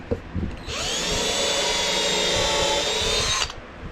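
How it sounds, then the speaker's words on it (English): A power drill drives screws into a wooden seat tray for a boat project, whirring steadily for about three seconds near and loud after a couple of brief knocks, with no talk. "let's put a couple of screws in there"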